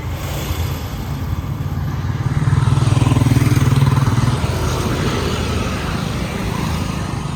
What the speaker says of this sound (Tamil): கடுமையான டிராஃபிக்கு